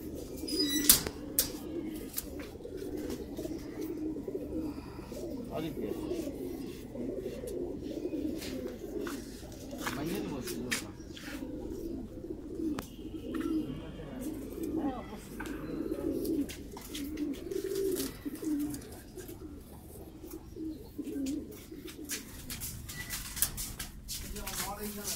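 Pigeons coo softly and continuously in a rooftop loft, low throaty calls overlapping at close range, with occasional wing flaps and scattered faint chirps throughout.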